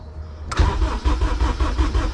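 A Honda K24 engine turns over on the starter to prime oil before its first start, a sudden onset of fast rhythmic cranking that continues loud and steady, with no voices.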